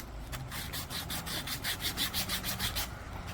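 Rhythmic back-and-forth scraping of sandpaper on wood by hand, steady strokes repeating quickly and close by, with no voices.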